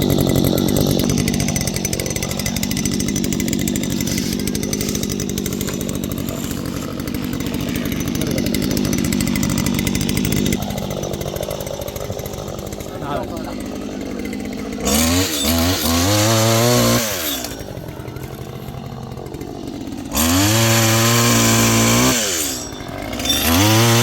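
A Stihl HT 75 pole pruner runs continuously with a buzzing two-stroke whine, rising and falling as it bites into and cuts wood outdoors, loud and close throughout.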